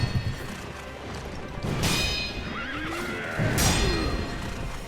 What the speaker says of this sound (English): There's the horse rear, perfect.